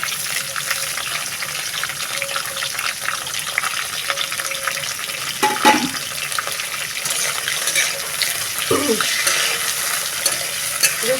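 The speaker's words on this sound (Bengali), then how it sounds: "পেঁয়াজটা একটু কালার ছাড়বে, মানে বেশি না, জাস্ট একটু অল্প নরম হবে" Chopped onions, two of them, frying in hot oil in a pan, giving a steady close sizzle with a few brief clatters of stirring, and no voices.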